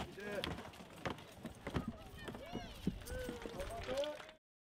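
Horses cross at a steady clip-clop, hooves thudding under a speaking voice and other background sound throughout, before the clip ends abruptly.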